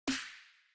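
A single clicky snare sample with added pitch and drive for a pop drum beat, a sharp bright crack with a short low body and a bright hissing tail that fades over under a second, heard alone.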